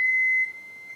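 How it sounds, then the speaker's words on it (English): A steady pure sine tone at 2128 Hz drives a metal Chladni plate, sounding as a single piercing whistle-like pitch that holds for about a second and then drops slightly in level. "Here's 2128 hertz."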